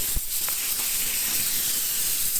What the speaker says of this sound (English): really all it is a matter of going round with the blower now